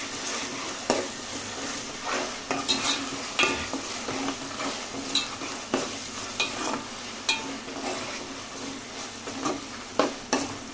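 Ginger garlic paste sizzles steadily in a pan for a prawn curry, broken by regular scraping clacks of a spoon stirring, with no voices.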